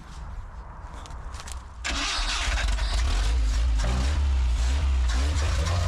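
An old car engine, long abandoned, cranks briefly, then catches and roars into a loud, rough idle that keeps rumbling steadily.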